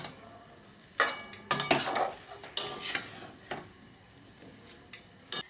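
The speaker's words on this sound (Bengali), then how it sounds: "এলাচটা দেওয়ার পরেও আর একটু নাড়াতে হবে" Spoon stirring a thick rosokora sweet mixture with cardamom added, scraping against a pan in irregular bursts of clinks and scrapes, close and moderately loud, no talking.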